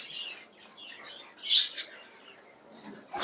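Birds chirp and call in a fancy pigeon farm colony with cages, light high tweets scattered throughout with a couple of louder calls in the middle, no voices.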